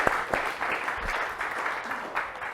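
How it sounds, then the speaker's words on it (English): Audience applause at a transport conference session, a steady patter of many hands clapping at moderate level with a few sharper individual claps standing out. "So we have a round of applause for Chris."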